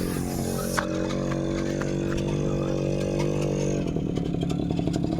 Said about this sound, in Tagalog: may ingay na motor.